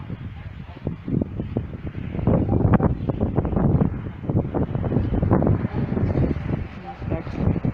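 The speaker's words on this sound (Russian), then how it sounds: "Дует ветер." Gusty outdoor wind buffets the microphone in uneven, rumbling bursts that rise and fall throughout, fairly loud and close.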